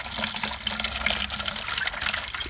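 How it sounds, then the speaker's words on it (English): Water gushing steadily from the faucet of a raised rain collection tank into a bucket, a continuous close, full-bodied pour with no voices. "That way I can easily put a bucket like this underneath, and just open, the water comes out."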